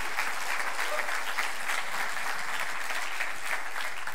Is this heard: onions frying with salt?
no